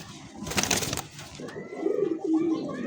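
A male pigeon of a large Bombay-type breed gives a few throaty, rolling coos close by, after a brief burst of louder rustling or flapping noise at the start.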